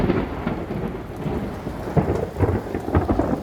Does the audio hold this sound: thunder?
yes